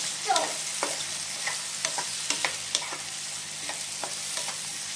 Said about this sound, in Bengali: আর পেঁয়াজগুলো ততক্ষণই ভাজবো যতক্ষণ পেঁয়াজগুলো কিন্তু একদম ডিপ ব্রাউন কালার না হয়ে যায়